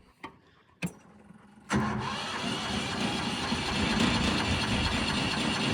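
A Condor 150 lift's small auxiliary diesel motor, which drives the hydraulics, gives a couple of sharp clicks, then cranks and catches into a steady, loud, rough running drone close by, with no talking.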